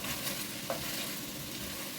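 Tomato paste frying and being stirred in a pan while making Transcarpathian lecho, a steady close sizzle with soft scraping and one brief clink from the utensil.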